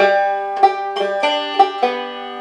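A banjo rings out on open strings, several notes struck in sequence and left to sustain, near and clear with no talking.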